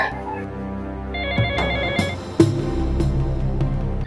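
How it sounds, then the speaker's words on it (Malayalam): A telephone bell rings in a home, sounding as a steady series of repeated electronic tones with a few sharp knocks between them, fairly close and clear, with no talking over it. "ഫോൺ ബെല്ലടിക്കണുണ്ടല്ല"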